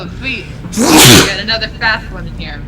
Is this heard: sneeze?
yes